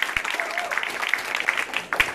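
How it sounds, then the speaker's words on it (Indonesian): Audience applause for a comedian at a roast show, steady clapping of moderate loudness with a few sharp claps standing out and a voice speaking over it. "ini dia, tepuk tangan untuk Bang Abdel"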